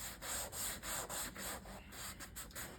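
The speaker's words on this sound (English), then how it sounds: "Now, I'm not pressing hard. I don't want to sand the leather to where it becomes suede." Light rhythmic sanding and scuffing across a leather finish before recoloring, done with gentle pressure; about eight even strokes in close succession, soft and near, with no talking.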